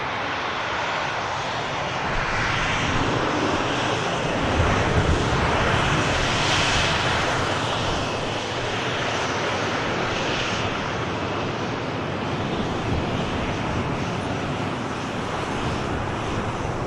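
An EasyJet Airbus A321 takes off from Manchester Airport, its jet engines producing a loud, sustained broadband roar that holds steady throughout, heard from a distance with wind noise and no talking.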